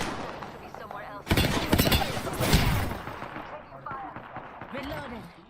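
Gunfire in a video game, a dense burst of rapid shots lasting about two seconds amid game noise, with a person talking over it.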